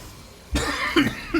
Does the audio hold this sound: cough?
yes